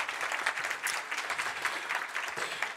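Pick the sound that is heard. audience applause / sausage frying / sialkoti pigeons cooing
audience applause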